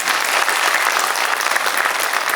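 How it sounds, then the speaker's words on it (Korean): An audience claps loudly and continuously during a televised discussion about a residential development project, a dense wash of many hands close and sustained from start to finish. "여러분 박수 한번 쳐주십시오."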